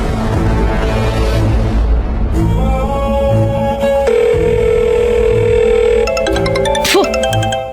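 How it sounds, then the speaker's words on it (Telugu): A telephone rings in a home scene from a Telugu TV serial, with electronic tones and tonal beeps sounding steadily and loudly over a dense background of music and ambient noise. "అమ్మా, మణమ్మగారు ఫోన్ చేశారు."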